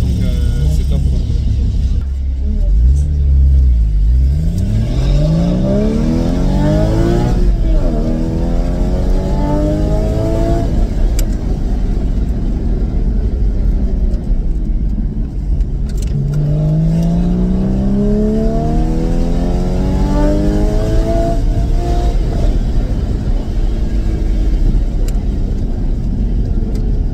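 Powerful supercar engines rev up and race past at an outdoor event, rising and falling sweeps of loud roaring, with crowd noise and voices underneath.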